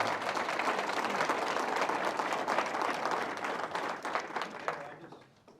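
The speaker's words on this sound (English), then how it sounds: "Give Mr. Powell a round of applause, would you?" Audience applause for a council member at a city's State of the City event, a sustained dense burst of clapping from a sizable crowd that fades out toward the end.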